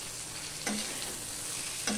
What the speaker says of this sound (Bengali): আলু পেঁয়াজ দিয়ে দেখেছো কিরকম ভাজা হয়েছে, ঠিক এইভাবেই ভাজতে হবে